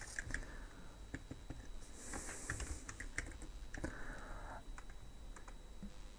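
Someone types steadily on a computer keyboard while writing C# code for a Unity playtime timer. Rapid, close keystrokes patter continuously with a few louder taps, and no one speaks.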